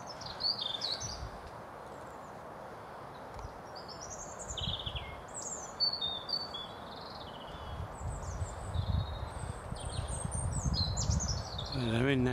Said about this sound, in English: I can hear the most beautiful bird song